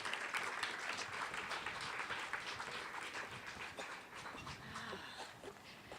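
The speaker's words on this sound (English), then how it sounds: "would you give a round of applause to our Dr. Brooke Cunningham as she comes on back up?" Audience applause for a returning speaker at a health office event, a steady broadband clatter of many hands sustained for six seconds at moderate, fairly distant level, fading slightly toward the end.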